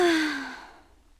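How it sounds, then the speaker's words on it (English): A short, less dramatic yawn from a character in the Ever17 visual novel, a single breathy exhale with a falling tone that fades quickly, close and alone. "Less dramatic yawn."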